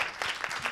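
Brief audience applause at a France–Brazil dialogue event, a short burst of several hands clapping nearby.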